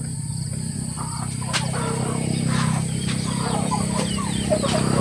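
Chickens and young chicks on a farm flock cluck and peep steadily amid a constant low hum, with scattered short calls rising over the bed of noise throughout and no talking.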